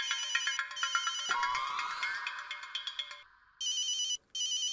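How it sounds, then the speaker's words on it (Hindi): A telephone rings with a bright electronic ringtone in repeated pulsing bursts, broken by a rising sweep partway through, then resumes after a short gap, loud and close with no voices. "आपके लिए फोन है हुकुम"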